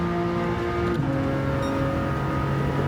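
Steady engine drone from a car in the Gran Turismo 7 racing game, revved high toward about 7,500 RPM, with sustained harmonic tones that shift in pitch around the one-second mark, loud and continuous with no talking.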